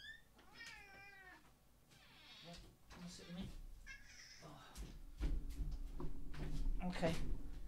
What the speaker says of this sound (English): a cat joining us. So if you hear any meowing,